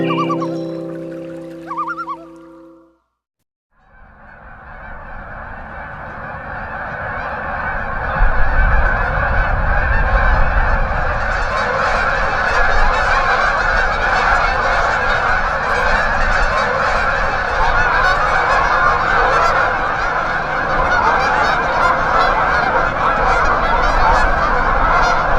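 A large flock of geese honking in Minnesota, a dense continuous chorus of overlapping honks that swells after a brief pause and stays loud throughout, no voices.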